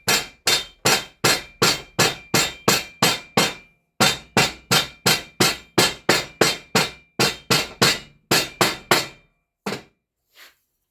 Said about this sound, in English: Make sure that when I ram it down, it's all the way.